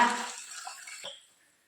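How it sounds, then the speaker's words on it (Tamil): Water is poured into a vessel of washed rice to soak it for kuzhi appam batter, a brief close splash and trickle that quickly tapers off into quiet. "இப்போ அரிசி முங்குற அளவுக்கு தண்ணி சேர்த்துக்கோங்க."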